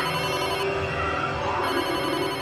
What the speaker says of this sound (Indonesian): Malah Mbak Tumi telepon.